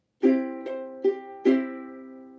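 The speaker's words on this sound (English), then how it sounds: "we are going to have a partial downstrum" A ukulele plays a swing strum with partial downstrums: four close strums in uneven swung timing, the last left ringing. It sounds alone and fairly quiet.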